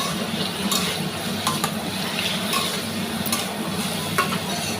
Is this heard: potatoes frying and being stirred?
yes